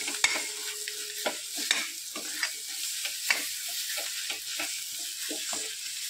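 A spoon scrapes and stirs eggplant bharit in a frying pan, with repeated strokes at an even pace over a constant soft sizzle, close up and with no voices.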